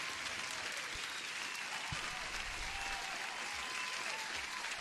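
A crowd applause sound effect plays as a livestream subscription alert, steady dense clapping throughout at fairly low volume, with no talk over it.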